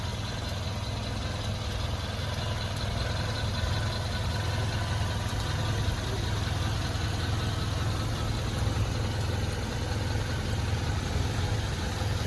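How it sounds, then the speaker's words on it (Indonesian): The engine of a 2000 Suzuki Katana GX idles smoothly at a steady, unchanging pitch, a constant low drone from start to finish with no voices. "Nah, ini untuk suara mesinnya. Jadi mesinnya masih sangat halus."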